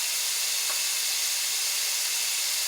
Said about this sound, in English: But for right now, I'm just sauteing them down so they can get soft.